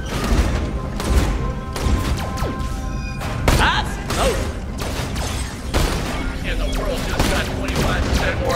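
Sustained gunfire and impacts from a firefight in Borderlands: The Pre-Sequel on Elpis, a steady dense barrage of shots and crashes running throughout, loud and busy with game effects layered over it.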